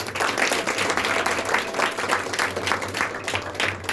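A church congregation claps for Jesus in steady, continuous applause. Many hands beat at a fairly even rhythm for the whole span, with a low hum underneath.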